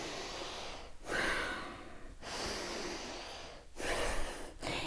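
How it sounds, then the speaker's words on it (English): A deep yoga inhale followed by exhales, three broad breathy swells close to the mic, each about a second apart, alone with no talking. "big breath in"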